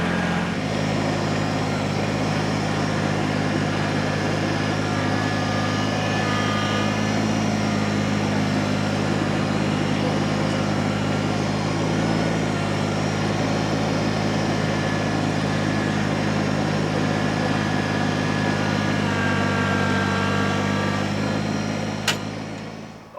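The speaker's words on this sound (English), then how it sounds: "I think I'm just gonna spread out that sand with the tractor" A tractor engine drones steadily and close while spreading sand for a deck build, a continuous low hum with little change in pitch and no talking.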